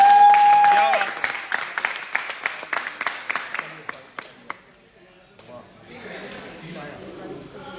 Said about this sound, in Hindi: आप लोगों को एक जोरदार ताली के साथ मैम को चाबी।